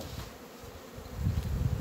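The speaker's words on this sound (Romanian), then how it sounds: "albinuțele" Honeybees buzzing at a hive in winter, checked for their feed cakes after a month of cold; a steady close, low hum that swells louder in the second half.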